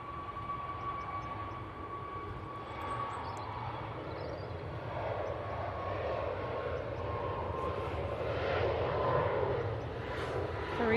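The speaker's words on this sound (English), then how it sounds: "We've got the Gulf Air about to turn on to finals. It's the Dreamliner." Gulf Air Boeing 787 Dreamliner approaching to land at Manchester Airport, a faint, distant jet rumble that slowly builds over the clip against quiet background noise.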